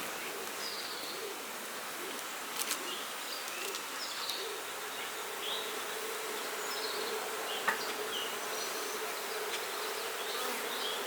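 Honey bees buzz steadily around an open hive during a colony inspection outdoors, a dense continuous hum with a few individual bees passing close, and no talking.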